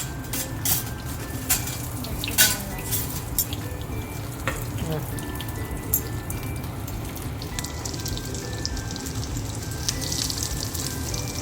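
Corn cheese balls fry in hot oil with a steady crackling sizzle and scattered sharper pops throughout, close and continuous over about eleven seconds.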